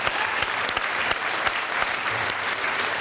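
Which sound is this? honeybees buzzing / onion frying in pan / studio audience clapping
studio audience clapping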